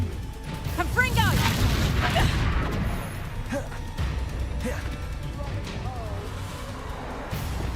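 Explosive Confringo spell blasts in Hogwarts Legacy combat, repeated crashing bursts layered over a dense, loud bed of battle effects and game voices throughout.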